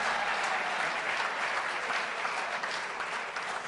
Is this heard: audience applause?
yes